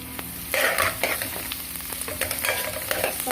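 Capsicum stirred into browned fried onions in a hot pan, a steady close sizzle broken by scraping stirs of a spoon, no talk.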